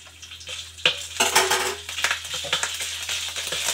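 Ginger and then garlic drop into hot oil in a pan for a stir-fry, giving a soft sizzle with clinks of a utensil against the pan, close by and moderately loud.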